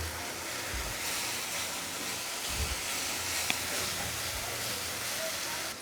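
Turmeric, chili and coriander powder with salt fry in a pan for a rohu fish curry, giving a continuous close sizzling hiss with occasional low knocks from stirring.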